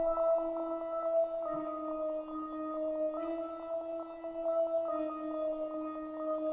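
A synth preset from the Starboy Raw backtrack bank, dry apart from stereo separation, plays sustained layered tones that hold steady with gentle pulsing swells across a repeating loop, with no voices.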